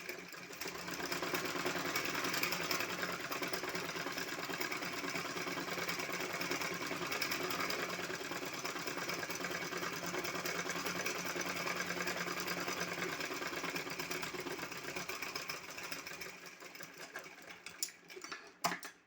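A sewing machine stitches a shopping bag with a continuous, fast whirring drone that holds steady for about seventeen seconds, then slows and stops.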